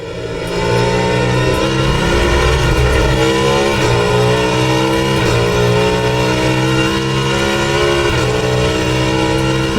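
An LMDh prototype race car in a sim racing game holds a loud, steady engine drone for a full lap, its pitch rising and dipping through gear changes and corners, with no voices over it.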